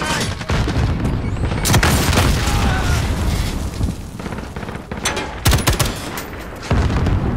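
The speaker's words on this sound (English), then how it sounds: "Throwing grenade." Video game combat with a grenade explosion and gunfire: loud booms and rapid bursts of shots crackle in sequence, close and intense, with brief gaps between volleys.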